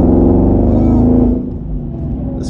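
A supercharged V8 Roush RS3 Phase 2 Mustang with a six-speed manual blips its throttle on a rev-matched downshift, a loud, deep engine rumble heard from inside the cabin that swells briefly then settles.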